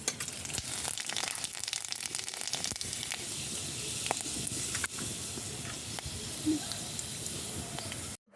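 Two dried red chillies and five-spice seeds temper in hot mustard oil in a kadai, producing a continuous, fairly loud crackling sizzle with sharp pops throughout and no talk.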